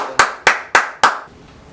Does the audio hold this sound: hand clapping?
yes